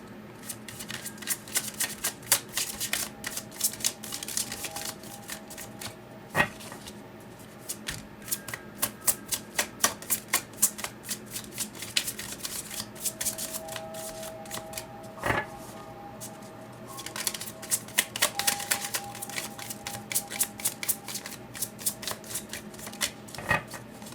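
Spellcaster Tarot deck being shuffled at close range: a steady riffle and slide of cards with soft flutters and occasional sharper slaps, no voices over it.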